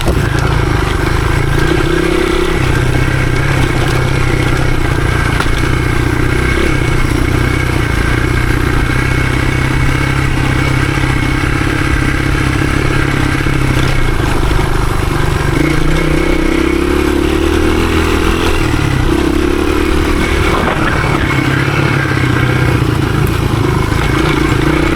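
A 1983 Honda XR200R dirt bike ridden through the woods, its small single engine buzzing and revving loudly throughout, with clattering and rising and falling throttle and no talking.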